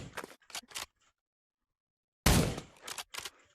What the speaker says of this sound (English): Moving on to the bolt action rifle.